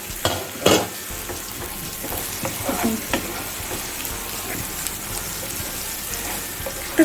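Masala paste frying in oil in a pan for a yogurt paneer gravy, a steady close sizzle with occasional stirring scrapes and a louder burst near the start, no voices.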